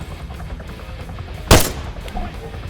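A single loud, sharp gunshot cracks out during an attack on an airbase in Arma 3, rising over a low rumbling battle background with a fainter report following shortly after.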